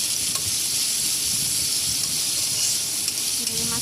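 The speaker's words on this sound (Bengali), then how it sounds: "ভালো করে চিংড়ি মাছটা ভেজে নেব" Prawns frying with garlic and onion, a continuous loud sizzle and hiss with occasional stirring scrapes, close up and without speech.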